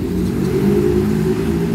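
Intercity bus pulling away from the Belo Horizonte bus station bound for Campinas, its engine a steady mid-low drone that swells slightly as it departs, close and continuous with no talk.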